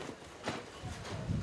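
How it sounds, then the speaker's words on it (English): Hooves of donkeys and mules carrying goods up from a harbor on a car-free island: soft, irregular clopping on hard ground, faint and brief, under a busy outdoor hubbub. "From the harbor, donkeys and mules carry the goods into market."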